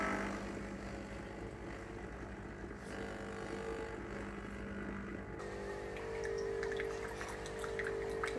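A Nespresso Vertuo Plus Magimix coffee machine running its cleaning cycle, with a faint, steady hum and water flowing and trickling, a louder gurgle near the end.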